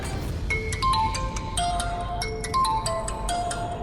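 A repeating electronic ringing tone plays in short melodic bursts, steady and clear, with no voices over it.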